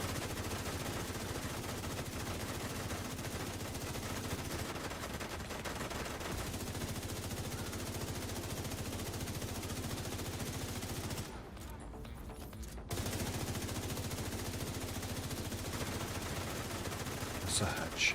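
Heavy continuous automatic gunfire in The Division 2, a steady loud rattling stream lasting most of the stretch, broken by a short near-silent gap before firing resumes, with occasional talk underneath.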